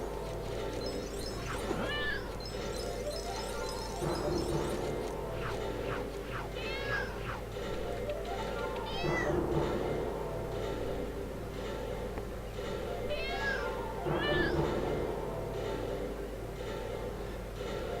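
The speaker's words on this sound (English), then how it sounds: "we have a cat to deal with." A cat in the Lego City Undercover video game meows several times in short rising cries over a steady background of game music and ambience.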